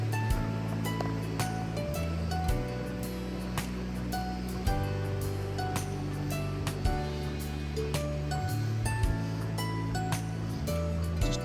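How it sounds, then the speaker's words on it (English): A rocky river in green springtime Vermont rushes steadily over stones, a broad continuous roar of flowing water that stays even and loud throughout, with no voices. "Pretty rocky river."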